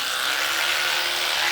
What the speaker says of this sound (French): dentifrice rose sur brosse à dents rose